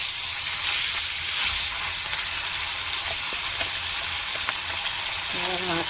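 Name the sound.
rohu fish frying in hot oil in a pan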